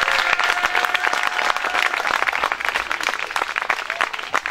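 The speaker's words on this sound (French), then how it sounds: "Merci, ils méritent un très grand applaudissement." A crowd claps steadily for volunteers at a youth trophy event, dense continuous applause filling the whole stretch with no break, fairly loud and close.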